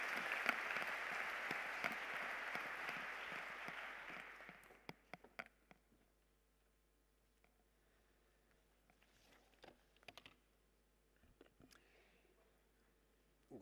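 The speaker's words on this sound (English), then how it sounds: "Please give a round of applause to the president of the International Astronautical Federation" An audience at a space-agency closing ceremony applauds the president of the International Astronautical Federation, a dense burst of clapping that fades out after about four seconds, leaving a quiet hall with scattered small knocks and rustles.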